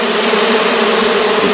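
Honey bees buzz continuously during the splitting of a hive, a dense, loud, steady drone close by with no talking.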